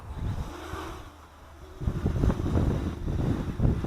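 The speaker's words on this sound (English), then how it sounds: "Now again, it's really windy here," Steady wind rumbles and buffets across the microphone, dipping briefly before gusting stronger again, with no voices present.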